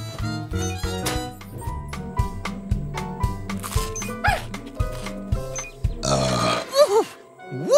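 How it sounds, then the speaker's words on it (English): A long, loud burp rises over bouncy children's music with cartoon sound effects, the belch standing out near the end of the passage. "That was a big burp"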